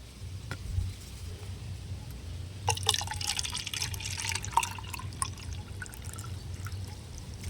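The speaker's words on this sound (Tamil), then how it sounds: "இதில் ஊற்றி இந்த நாலு லிட்டர் தண்ணியில் ஊற்றி கலந்துக்கலாம்" Fertilizer solution is poured into a pink bucket holding about four litres of water, producing soft splashing and dripping trickles over a low background hum.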